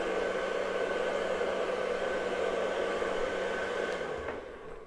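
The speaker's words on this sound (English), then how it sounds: "I will actually blow dry it back" A hair dryer blows steadily at close range while thick hair is dried back for volume, a constant loud whooshing hum that drops off and cuts out near the end.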